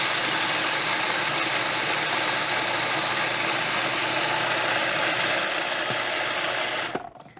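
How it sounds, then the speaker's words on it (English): A food processor grinds slivered almonds toward a fine powder, a loud steady whirring roar with rattling that runs unbroken, then cuts off abruptly near the end. "So you're going to have to do this in a food processor."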